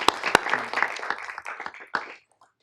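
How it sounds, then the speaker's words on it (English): Brief scattered clapping from people at a city council meeting, a few sharp claps and a short patter lasting about two seconds, with faint talk, before stopping. "How about a little applause for"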